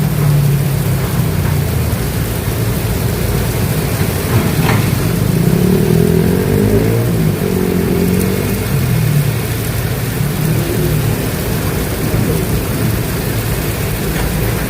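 Heavy rain pouring down at Kali Baru, Tambun, Bekasi, a loud, unbroken roar of rainfall with a low engine rumble underneath, no voices.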